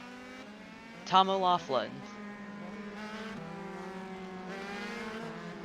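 Race cars lap Lime Rock Park in a racing video game, giving a steady engine drone with rising and falling pitch. A commentator talks over it, and a short burst of tire squeal comes early on.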